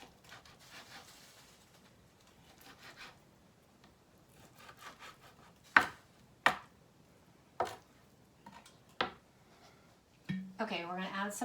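A knife cuts vegetables on an inexpensive cutting board for Cajun red beans and rice. A few sharp, close knocks land one after another beneath soft speech and rustling, and a voice talks near the end.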